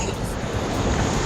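Ocean waves wash onto a beach in Cuba, a loud, broad rushing surf mixed with wind buffeting the microphone.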